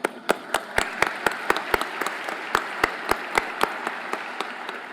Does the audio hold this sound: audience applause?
yes